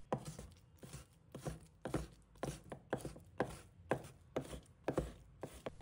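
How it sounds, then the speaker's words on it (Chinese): A knife chops pork belly into small pieces on a board, about a dozen close, crisp strikes in a brisk, even rhythm. "将五花肉切成厚度均匀的薄片，再切成小块"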